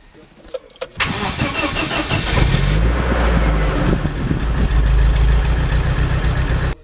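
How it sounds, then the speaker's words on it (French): A four-cylinder car engine is cranked with the ignition key after a few clicks and rustles, catching after about a second and settling into a loud, steady idle that continues to the end. "Là vient le moment où il faut démarrer la voiture."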